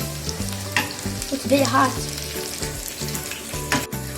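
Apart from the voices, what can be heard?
garlic frying and being stirred in a pan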